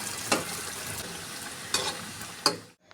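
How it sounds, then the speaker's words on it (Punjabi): Vegetable bread fingers frying in hot oil, a second batch eased in gently, give a steady low sizzle with a few brief louder crackles and spatters, close and continuous, ending abruptly in near silence. "ਦੂਜਾ ਬੈਚ ਵੀ ਫਰਾਈ ਕਰਾਂਗੇ ਬੜੇ ਆਰਾਮ ਨਾਲ ਇਹਨਾਂ ਨੂੰ ਹੌਲੀ ਹੌਲੀ ਤੁਸੀਂ ਤੇਲ 'ਚ ਪਾਣਾ ਹੈ"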